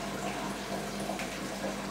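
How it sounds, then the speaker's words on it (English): Water running steadily through the filter bed of a homebrew mash tun during Vienna lager brewing, a constant soft rushing flow heard alone. "we'll get our mash tun prepared while the water's being filtered."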